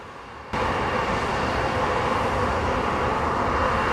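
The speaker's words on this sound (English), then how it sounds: "coming now from Toronto in the form of Air Canada using an A330" An Air Canada Airbus A330 airliner approaches Montego Bay, Jamaica, on its flight in from Toronto, a broad steady jet roar that starts abruptly after half a second and then holds loud and even to the end.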